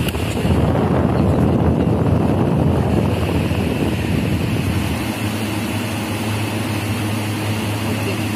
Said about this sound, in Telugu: స్వింగ్ మోడ్ ఆన్లో ఉన్నప్పుడు అది రొటేట్ అవుతుంది